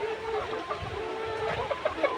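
Layer hens about 100 days old cluck close by in short, irregular bursts, with no talk over them.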